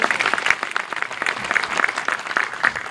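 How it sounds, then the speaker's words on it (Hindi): Sustained applause for Dr. Jatin Chaudhary fills the room, a dense crowd clapping steadily at moderate loudness from start to finish with no talk over it. "जोरदार तालियां डॉक्टर जतिन चौधरी जी के लिए"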